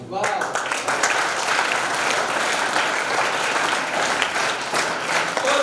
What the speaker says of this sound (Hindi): अरे तालियां तो आपने खूब बजाई